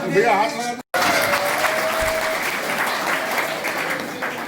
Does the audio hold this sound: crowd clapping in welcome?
yes